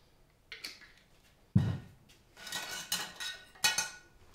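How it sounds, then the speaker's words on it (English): A fork clinks and scrapes against a bowl of orange-infused dark agave for raw orange marmalade, in short bursts of stirring with brief pauses between, close and fairly loud, no voices. "With a fork, give it a nice little stir, yeah?"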